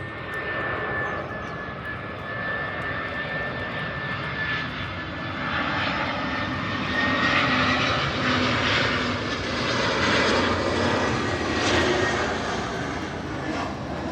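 A loud airplane roars overhead with a steady, continuous engine drone that swells slightly as it passes close by.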